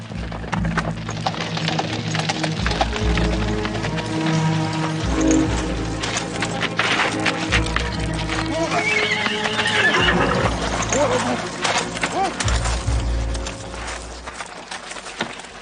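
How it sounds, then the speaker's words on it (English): A horse neighs loudly over the drumming of galloping hooves, with a busy, clattering commotion throughout. "Stop that horse."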